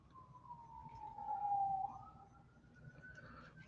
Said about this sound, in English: Oh, I hear sirens.